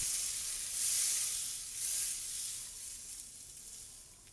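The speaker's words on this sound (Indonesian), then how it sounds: "Aduk-aduk sebentar." Potatoes and carrots sizzle and hiss in a hot pan, a soft scraping swell coming and going as they are stirred, with no voices.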